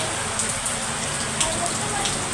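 Rain falls steadily at night around a house with a veranda, a dense, even hiss of drops close by with faint occasional taps, continuous and alone.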